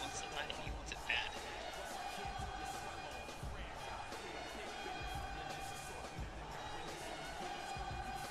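Wrestling arena crowd at a Monday Night Raw event reacting to John Cena, a low, fairly faint mixed roar with scattered thumps, under a commentator's voice.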